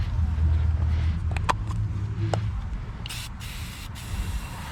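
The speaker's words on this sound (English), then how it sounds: "Let's hit it with some carpet cleaner" Carpet cleaner spritzes onto the interior carpet of a Dodge Charger 392 Scat Pack Widebody in a few short hissing bursts near the end, over a low background rumble.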